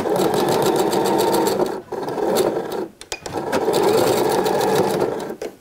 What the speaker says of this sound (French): Et je vais venir tout simplement ici piquer au point droit, donc à la base de l'anneau.